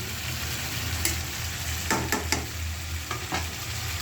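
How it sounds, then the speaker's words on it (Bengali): Fish curry with fresh flat beans sizzles steadily in a pan, a constant soft frying hiss broken by a few sharp scrapes and clinks of a spoon stirring, close and moderately quiet, with no voices. "এখন একটু ভালো করে কষাই নিই"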